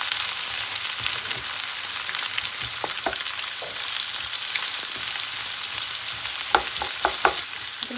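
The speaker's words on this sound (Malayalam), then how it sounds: "നന്നായി ഇളക്കി കൊടുക്കാം" Onions for chicken puff filling frying in a pan, a loud continuous sizzle with occasional scrapes and knocks of a spoon stirring them, no voices.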